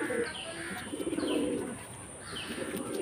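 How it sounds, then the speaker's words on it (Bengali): Soft, low pigeon cooing in a few rolling phrases, close by, over a faint steady hum. "এই যে মেয়ে পায়রা, এই যে মালবাহী পায়রাটা জোড়া।"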